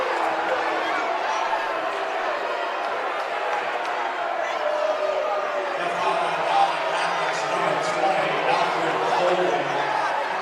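A high school basketball crowd in the Dowling Catholic gym groans and murmurs in disapproval after a foul call, a sustained broad rumble of voices under a commentator's talk.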